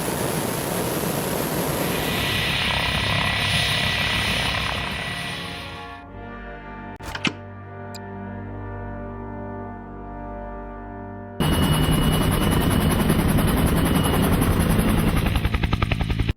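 Helicopter arriving, a loud continuous rotor and engine drone that drops to a steadier hum, then a sudden cut to a full-volume roar near the end.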